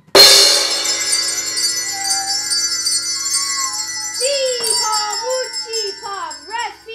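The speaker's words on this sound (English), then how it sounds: "Going to hit the bell." A hammer strikes a bell once in an audio drama, sending out a bright, loud ring that decays slowly while sweeping, magical tones rise and bend over the lingering resonance.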